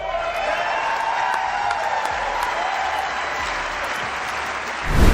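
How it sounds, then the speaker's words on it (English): A crowd applauds after Erika Kirk's speech at an event celebrating Charlie Kirk. Steady clapping comes with scattered cheers over a faint tonal hum, and a louder burst swells at the end. "The applause was deafening."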